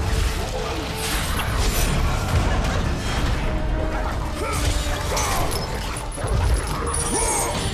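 Dogs whimper and yelp as they die in the video game God of War Ascension, amid dense, loud game noise with clashing mechanisms and crashes that runs continuously.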